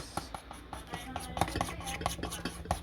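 Sapin-sapin batter being mixed in a bowl, with repeated light clinks and scrapes of a utensil against the bowl at an irregular, brisk rhythm, close and fairly soft, with no talking.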